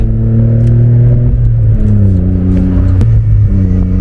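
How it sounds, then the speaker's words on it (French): A mid-rear-engined convertible drives with its top down, the engine droning steadily with clear rising and falling pitch as it accelerates and shifts, loud and close throughout. "même décapoté, eh ben, on entend bien le moteur"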